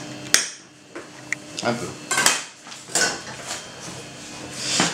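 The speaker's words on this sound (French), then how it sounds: "on va prendre une petite poêle, on va la mettre à chauffer avec un peu de beurre" A small frying pan is handled and set on to heat with a little butter, giving a string of sharp metallic clanks and knocks at close range, with a few brief spoken words.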